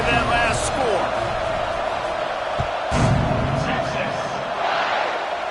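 A football stadium crowd at a Texas versus South Carolina game buzzes after a score, a dense, steady roar of distant voices with brief swells, while an announcer talks over it.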